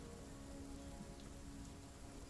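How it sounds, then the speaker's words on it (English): Steady rain falls in a dense, even hiss of drops pattering on surfaces, soft and continuous with no other sounds. "as you step out, rain has started to fall"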